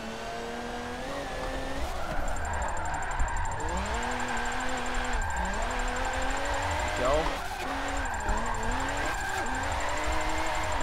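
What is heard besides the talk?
car engine revving while drifting in video game Forza 7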